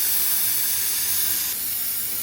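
A kerosene blowtorch burner roars with a steady, loud broadband hiss that runs unbroken throughout, with no talk over it.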